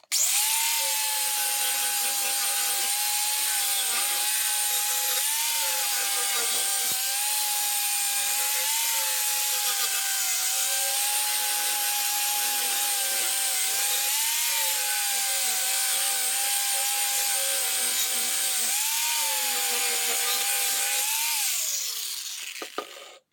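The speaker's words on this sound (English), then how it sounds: "I had a one of those flapper discs in here just to clean it up a little bit" A flap disc grinder works over a clamped steel knife blank, a steady high-pitched whine that holds for about twenty seconds with slight pitch dips as the disc bears down, then winds down at the end.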